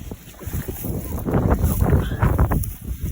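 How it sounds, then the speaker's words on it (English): Steady, gusty wind buffeting the microphone outdoors while water trapping in Wisconsin, a loud rushing roar throughout with no clear speech. "It is windy as windy."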